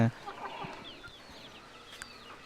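Aseel chickens at a breeding farm eating flour, with soft scattered clucks and pecking near the mic, plus a faint voice in the background.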